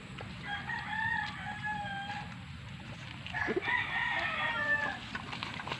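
A seven-month-old rooster crows twice in a backyard farm, each call a clear, drawn-out cock-a-doodle-doo over a low rumble of farm background noise.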